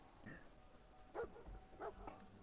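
A dog in the video game Fallout 4 gives a few faint, short whimpering yips spaced across the moment over quiet background ambience.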